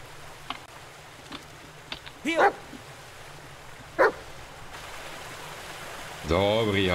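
A dog barks a few times in short, separate yips and woofs, fairly close, over a quiet outdoor background with a trickling stream, and a voice speaks briefly at the end.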